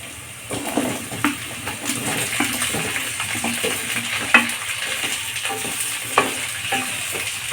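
Potatoes and onions are stirred and fried in a pan, with a constant low sizzle under scraping spoon strokes and occasional sharper clacks against the pan, no voices.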